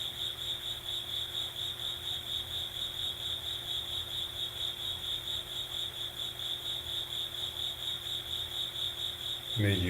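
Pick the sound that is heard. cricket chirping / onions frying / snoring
cricket chirping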